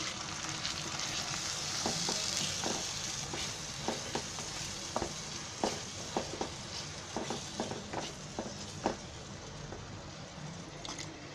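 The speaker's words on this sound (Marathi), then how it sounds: "ते मस्त छान ग्रेव्ही झाली आहे, चांगलं चरचरते बघा." Gravy with coconut chili paste sizzles steadily in a pan for a tuna fish biryani, with regular scraping stirs of a spoon punctuating the close, continuous frying.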